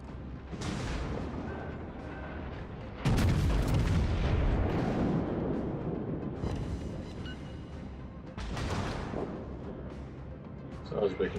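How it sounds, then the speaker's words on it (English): Heavy naval guns of the battleship Mikasa fire in World of Warships, with deep booming salvos and rumbling blasts that swell and fade, one especially loud burst near the middle, all loud and close. "I will back and fire again."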